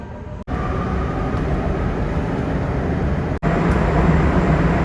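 Continuous loud rumble and rush of a moving metro carriage, heard from inside while riding, broken by two brief dropouts, with no voices heard.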